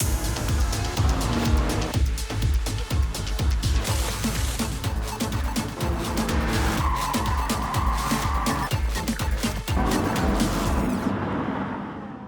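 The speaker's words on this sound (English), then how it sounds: "The squeal of burning rubber." Race cars in the Gran Turismo video game at an esports championship event at Sydney's Luna Park, with continuous loud tire squeal and skidding over revving engines, dense and sustained with no pauses.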